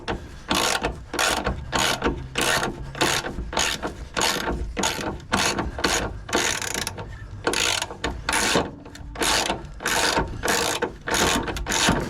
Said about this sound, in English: So there you go, you can use your ordinary ratchet